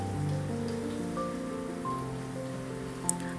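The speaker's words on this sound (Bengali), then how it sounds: "এবারে আমি এতে টমেটোটা আর কাঁচা লঙ্কা চেরাটা দিয়ে দিচ্ছি। একই সঙ্গে একটু ভেজে নিচ্ছি।" Tomatoes and slit green chillies fry in oil for an echor chingri curry, giving a faint, steady crackling hiss like light rain that continues throughout, with a soft hum underneath.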